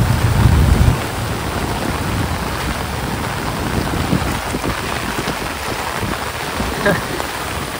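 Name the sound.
heavy monsoon rain on a flooding river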